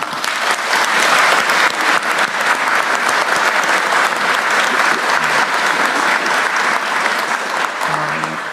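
Loud, sustained applause from an audience at a government ministry work-report meeting in Korea, dense steady clapping filling the room for about eight seconds with no pause.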